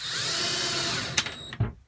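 A power drill drives screws into a wood panel while a bed lift storage unit is being built in an RV: a steady whirring run for about a second, then two short punchy bursts as screws seat, alone with no talk.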